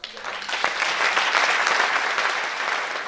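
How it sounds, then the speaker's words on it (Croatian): An audience applauds at a theatre event, a dense, steady wash of clapping that starts abruptly and holds throughout. "Molim vas jedan aplauz."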